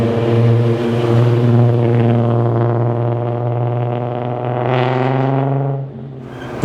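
A Volkswagen MK3 with a 3.2 liter 24-valve VR6 engine revs loud and close, a steady deep harmonic drone that rises in pitch near the end before easing off, with no one talking.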